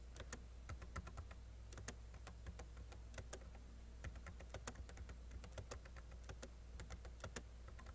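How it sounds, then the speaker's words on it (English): Rapid, uneven clicking of keys on a computer keyboard during a typing lesson, with close, crisp taps that come in quick bursts and brief pauses, and no talking. "If you look as I'm typing, the words per minute changes"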